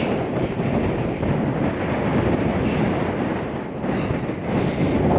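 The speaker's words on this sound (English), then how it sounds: "it's ridiculously windy right now." Strong wind roars and buffets the microphone continuously, a loud rushing noise that swells and dips slightly throughout.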